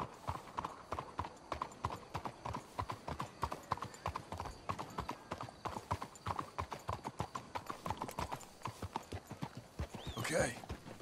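Horses trot on a road in Red Dead Redemption 2, their hooves clip-clopping in a steady, close, continuous rhythm. One horse neighs briefly near the end, and characters talk over the hoofbeats.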